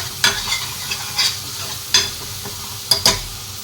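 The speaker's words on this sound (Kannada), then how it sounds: "ಸೊ ಇದಷ್ಟನ್ನು ಸ್ವಲ್ಪ ಫ್ರೈ ಮಾಡಿಕೊಂಡು" Food sizzles steadily in a pan while a spatula stirs it, with a handful of sharp scraping strokes spaced a couple of seconds apart and no talking.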